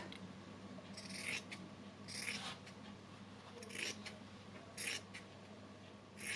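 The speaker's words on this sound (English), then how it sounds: "Listen, those scissors make a lovely noise." Scissors snip through fabric in several crisp, evenly spaced cuts, close by, with a faint room hum and no talking.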